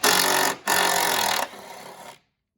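A power tool spins off strut bolts on a Buick LeSabre, two loud close whirring bursts separated by a short gap, followed by a quieter tail before stopping.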